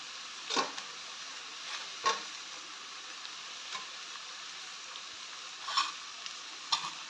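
Chopped tomatoes go into a frying pan with clam meat and potato, bringing a soft continuous sizzle broken by several scattered scraping stirs and light taps of a spatula.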